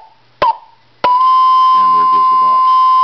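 A marker generator tone comes through a Drake receiver on 40 meters as a steady, strong, pure whistle that starts abruptly after a click and holds on, with garbled sideband voice mixed in under it.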